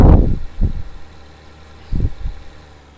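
A tractor engine idling on a small dairy farm: a steady low rumble with a few heavier chugging bursts, heard close and fairly loud, with no talking.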